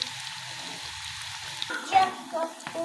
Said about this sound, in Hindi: ऑयल हमारा गर्म हो चुका है, तो अब हम इसे फ्राई करते हैं।